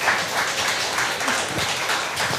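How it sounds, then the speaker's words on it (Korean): Audience applause at a gathering for breast cancer patients, steady dense clapping throughout, moderately loud and fairly near, with no voices over it. "따뜻한 격려의 박수 먼저 한번 부탁드립니다"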